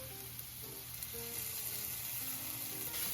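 Tomato paste cooking in a pan with softened shallots and garlic for beef stroganoff, giving a steady, close sizzle with soft bubbling that runs unbroken, with no voices.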